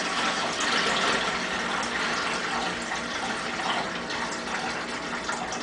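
Tap water gushing steadily into a Mr. Beer plastic brewing keg, a continuous rushing fill with no breaks, close and fairly loud.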